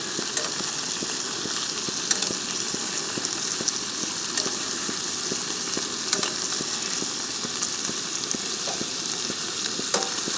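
Ribeye steak searing hard in a hot pan with butter being basted over it, a steady crackling sizzle with frequent spoon clicks against the pan, no talking.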